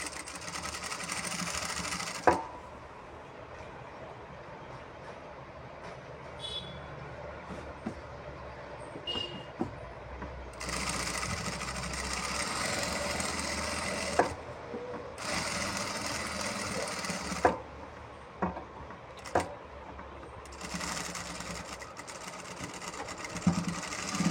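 An electric sewing machine stitches a churidar in bursts, its fast whirring rattle starting and stopping several times, near and fairly loud, with quieter clicks and handling noises between runs.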